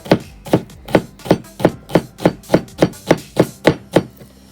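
A knife finely chops a quarter of a large shallot into brunoise on a board, about a dozen crisp, evenly spaced taps in a steady rhythm, close and clear.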